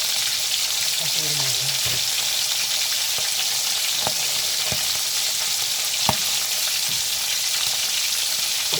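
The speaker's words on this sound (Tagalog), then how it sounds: "Prito na hito po. Pipirito na po." Catfish fries in hot oil, giving a steady loud sizzle throughout with a few sharp pops and stirring clicks, and no voices.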